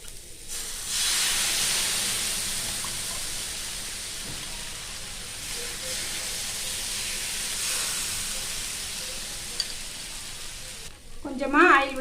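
Wheat rava dosa batter hitting a hot pan: a loud, sustained hiss and sizzle that swells right after pouring and holds steady, ending with a short burst of nearby voice.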